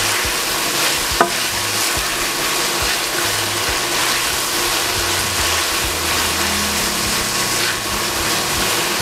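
Bacon fries in a pan with a loud, continuous sizzle and crackle, close by, broken once by a sharp click near the start, with no talking.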